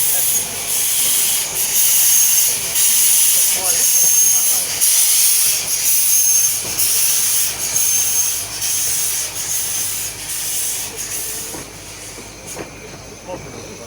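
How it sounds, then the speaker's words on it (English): A West Coast Wilderness Railway train arrives with loud hissing steam, which comes in rhythmic pulses over the rumble of rail wheels and fades slightly toward the end. "Here comes the train."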